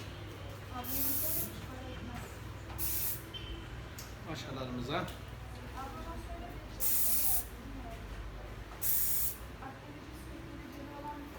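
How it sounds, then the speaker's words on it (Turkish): Four short bursts of aerosol hair spray hiss loudly at intervals over a constant low hum, with someone speaking briefly between them. "En sonda spreyimizi sıkıyoruz."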